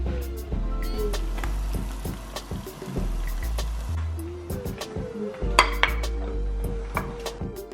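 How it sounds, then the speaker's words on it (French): Aubergines being prepared in a home kitchen, with repeated clinks of dishes and cutlery and the knock of pots, irregular and close, with a clearer clatter around the middle and no talk. "là j'étais en train de préparer mes aubergines"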